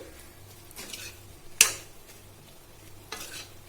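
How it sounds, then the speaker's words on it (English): Pasta being stirred with spices, black pepper and pasta masala in a pan, giving soft scraping stirs and a sharp utensil knock against the metal, with a faint sizzle underneath. "Then you have to mix it very well."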